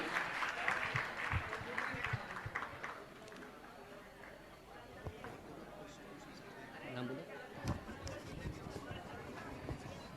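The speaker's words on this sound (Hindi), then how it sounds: "मैं चाहूंगा आप इनके लिए जोरदार तालियों से का सम्मान करें। तालियां आपकी बजना चाहिए।" Audience applause honouring volunteers at a Jain religious gathering, sustained crowd clapping mixed with chatter and murmur, swelling near the start and again toward the end, moderately distant.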